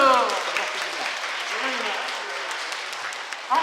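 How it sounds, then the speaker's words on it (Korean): An audience at a Korean lifelong-learning city council event claps in encouragement, a dense, steady wash of applause lasting several seconds with faint voices underneath. "수고했다고 격려의 박수 부탁드립니다."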